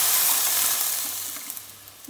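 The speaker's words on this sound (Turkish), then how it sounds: "Hemen kaynayan suyumuzu ilave ediyoruz içine." Boiling water hits seared bones in a soup pot, setting off a loud, close sizzling hiss that gradually fades to softer bubbling crackles.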